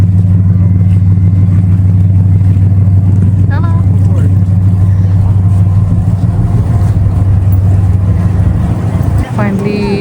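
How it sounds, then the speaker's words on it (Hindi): Cruise boat engine running steadily on a Thousand Islands sightseeing cruise in Canada, a loud continuous low drone with brief faint tonal sounds over it. "फाइनली क्रूज़ बोट कर चुके हैं और क्रूज़ चल रही है"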